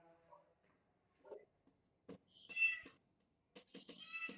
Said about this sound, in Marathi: मांजर कोणाच तरी ओरडते तिचा आवाज येते मला.